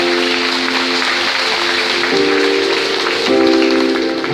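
A church congregation at a communion service claps loudly and continuously, a dense, even wash of hands with sustained musical tones running beneath it.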